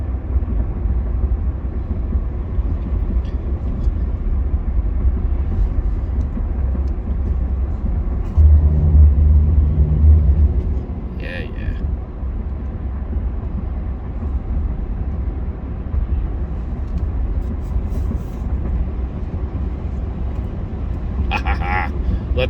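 A Ford F150 truck drives on a road in light snow, its steady low road rumble and engine drone continuous throughout, with a brief louder swell midway and a person talking over it.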